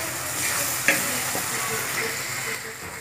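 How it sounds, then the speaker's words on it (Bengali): Masala with cashew paste sizzles and fries steadily in a pan, a close, even hiss interrupted by a few light stirring scrapes and one brief clink. "আবারও ভালো করে মশলাটাকে কষিয়ে নেব।"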